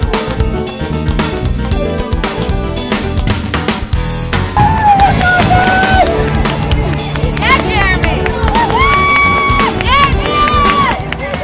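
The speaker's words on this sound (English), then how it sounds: "As the New Yorkers were cheering the runners" Spectators lining New York City streets for the 2024 NYRR marathon cheer and shout for passing runners, a loud, dense crowd with whoops, clapping and high-pitched yells, along with a sustained shrill whistle or horn tone.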